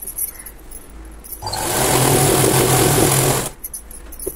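A sewing machine runs steadily for about two seconds, stitching the bottom of a Punjabi dress, a close, even mechanical whir that starts and stops abruptly with quiet handling before and after.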